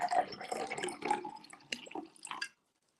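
Dandelieth spring water poured from a bottle, an uneven burbling glug and splash close by that runs about two and a half seconds and then stops into silence.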